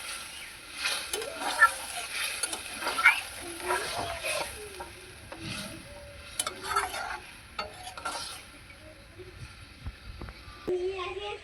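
A potato and mushroom curry simmers and sizzles in a pan after water is added, under a soft steady bubbling hiss with intermittent scraping stirs, while someone talks over it.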